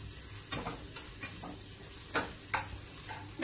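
Two small, finely chopped onions frying in a pan as they are stirred, a continuous sizzle with regular scraping knocks of the spoon every half second or so, no voices.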